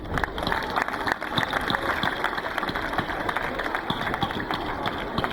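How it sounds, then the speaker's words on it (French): An audience at a speech ceremony marking an institute's 25th anniversary claps for graduating baccalaureate classes. Dense, crackling applause runs continuously from many hands, moderately close and filling the whole stretch. "Je crois qu'ils méritent nos applaudissements."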